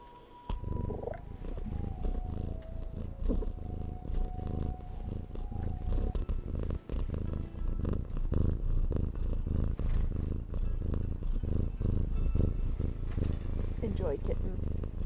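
A kitten purring in a basket, with a steady, close, continuous rumble throughout and a person speaking over it.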